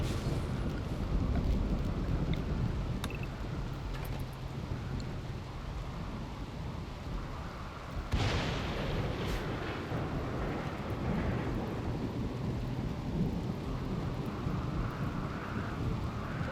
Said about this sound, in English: He got struck by lightning.